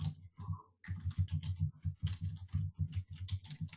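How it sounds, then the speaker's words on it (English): Someone types on a computer keyboard up close, keys clattering in quick irregular bursts with a few short pauses, and no one speaks. "I just do typing on here."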